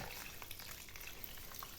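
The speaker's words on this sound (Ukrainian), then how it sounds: "Заливаємо водою так." A steady, faint splashing rush of water pouring into a pot, continuous and hissy throughout.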